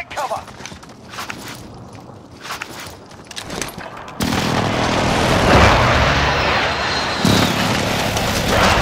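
Precision airstrike explosions in Call of Duty: Modern Warfare, a dense roaring barrage of blasts that surges loudly after a stretch of quieter game sounds and an announcer voice, holding a continuous rumbling wash with a fresh burst near the end.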